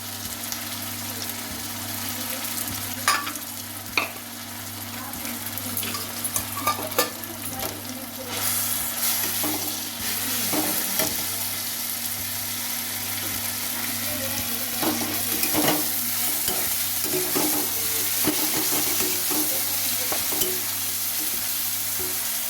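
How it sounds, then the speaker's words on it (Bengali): Ginger-garlic paste sizzles with browned onions in a pan, a dense frying hiss running throughout while a utensil stirs and scrapes with irregular clatters, and a low steady hum persists underneath. "আদা রসুনের পেস্টগুলোকে লাল লাল করে ভেজে নিতে হবে পেঁয়াজের সাথে"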